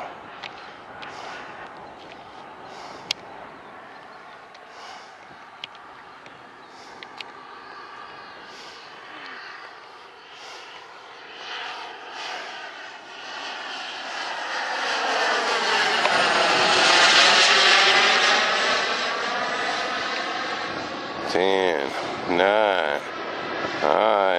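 An F-16 fighter jet flies overhead, its engine roar building slowly to a loud peak and then fading away, while a person talks nearby.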